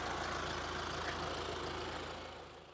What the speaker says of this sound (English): We're riding a trailer tractor down a path taking us more than a mile into the Neches River Wildlife Refuge.